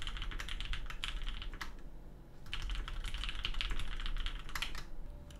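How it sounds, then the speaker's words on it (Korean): Typing on an OTD 456GT custom keyboard with vintage West German Cherry MX Black switches, a fast run of soft, muted keystrokes with a brief pause, captured close-up but quiet overall, with no talking. "자, 그럼 여러분들께서 궁금해하시는 타건음 한번 같이 들어보죠."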